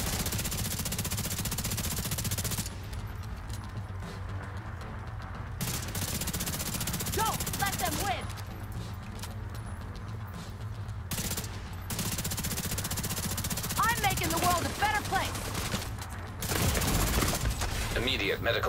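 Gunfire in The Division 2 comes in bursts across a busy combat soundscape, with a steady low rumble beneath and voices calling out between the shots.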